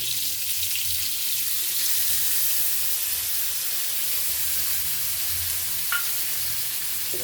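Ground poppy seed paste goes into a pan of fried pointed gourd, setting off a constant, fairly loud sizzling hiss that runs unbroken and alone throughout.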